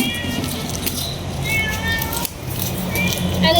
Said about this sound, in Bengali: এই যে বিলাই